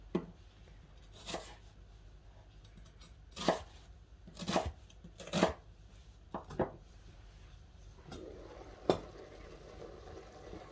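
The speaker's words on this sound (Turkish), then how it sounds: "Kıymam suyunda haşlanırken ben de bir yandan soğanlarımı küp küp doğrayacağım" Sharp knife strikes on a cutting board as onions are diced come in irregular bursts, some quick double chops, over a quiet kitchen background with faint bubbling of simmering ground meat.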